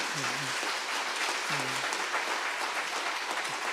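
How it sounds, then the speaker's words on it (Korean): A congregation applauds at a Korean church's Sunday worship service, a dense, sustained wash of many hands clapping heard from within the hall, with brief voices rising through it. "우리 수련회 잘 다녀오라고 크게 한번 박수 한번 치겠습니다"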